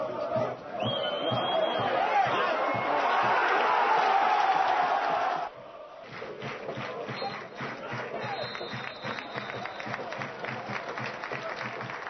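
Home supporters at a Mladost Lučani versus Partizan football match roar and applaud after the 1-1 equaliser, a loud swelling crowd noise for about five seconds that then drops to a lower murmur of chatter.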